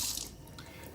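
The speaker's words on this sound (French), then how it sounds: "Avec la bague à filtre, l'eau coule de façon rectiligne." Water runs steadily from a kitchen tap fitted with a screw-on filter ring, a soft continuous hiss with a brighter splash at the start, close and alone.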